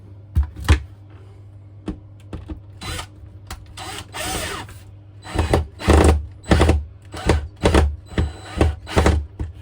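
A power drill drives screws into a template, with short whirring bursts, then a run of repeated buzzing bursts in a steady rhythm, close and fairly loud, with thunks between.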